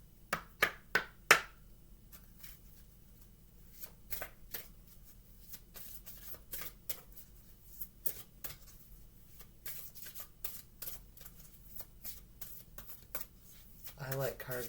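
Oracle cards are shuffled in a few sharp riffles at the start, followed by softer intermittent taps and shuffles at close range in a quiet room.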